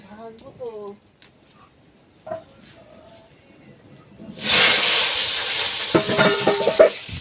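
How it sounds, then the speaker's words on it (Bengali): Potatoes start frying in a pan, a sudden loud hiss breaking in after a few seconds of quiet talk and continuing with scraping and crackle, voices heard before it. "তুমি ওই আলুগুলো ভাজতে লাগো"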